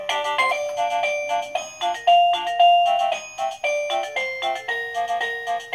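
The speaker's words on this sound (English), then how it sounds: "this is the Govee wireless waterproof doorbell. Ah, little baby soothing melody" A Govee wireless waterproof doorbell plays a soothing melody chime: a bright, loud run of bell-like notes in a gentle, steady tune, heard close and alone.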